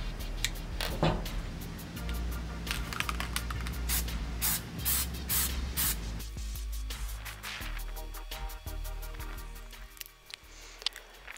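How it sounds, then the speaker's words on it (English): Adhesive sprayed from an aerosol can onto the pillar of an E46 sedan during reupholstering: a string of close, loud hissing bursts of varying length, with short pauses between them and no talk. "Now when you're spraying the adhesive on, you're going to want to make sure you spray it on evenly"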